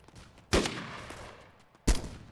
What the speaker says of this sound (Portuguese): Deve ser um BMP, cara, pelos tiros.